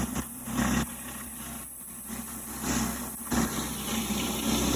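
A pressure washer rinses down a dirty patio outdoors, a steady broadband hiss of spraying water with a low engine or pump hum beneath, surging and easing in level over a few seconds.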